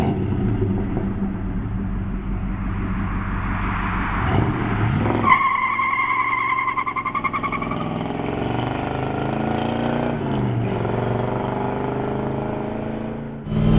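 A stock 1970 Chevy Chevelle SS muscle car revs its engine hard, then breaks into a long, loud tire squeal as it spins out, followed by the engine settling back into a rumbling idle and fading rev.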